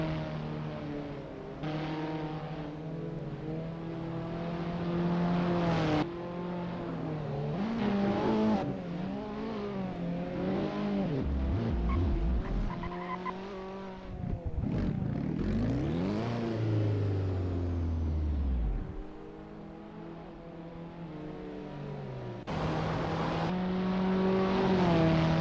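Abarth 500 race cars in the Assetto Corsa racing game at Circuit de Pau, engines droning and revving continuously with rising and falling pitch as gears shift, loud and steady throughout with no talk.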